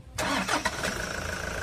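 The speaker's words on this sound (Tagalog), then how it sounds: "switch off ko muna itong makina. Tsaka ako ngayon pa-start siya ulit." A Toyota Hi-Ace van engine with about 110,000 km on it restarts after a timing belt replacement. A short starter crank catches quickly, then settles into a steady close idle.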